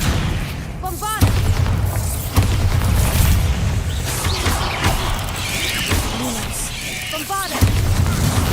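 Bombarda spell explosions go off in Hogwarts Legacy: a few heavy booms with broad crashing bursts, spaced several seconds apart. A voice shouts briefly just before some of the blasts, over dense game ambience.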